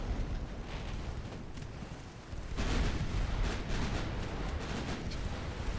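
Main guns on a warship firing in the naval strategy game Ultimate Admiral Dreadnoughts, a heavy booming blast that breaks in midway and rolls into a sustained thunderous rumble, loud and dense with no talking.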